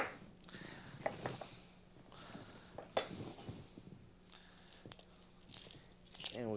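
A yellow or white onion being peeled by hand, with soft crinkling and tearing of the dry papery skin in short irregular bursts, close and quiet, with faint speech in the background.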